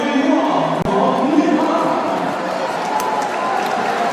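A crowd cheers beside a swimming pool during a men's 1500m freestyle race at the 2018 Asian Games, a steady, loud roar with a commentator's voice running over it.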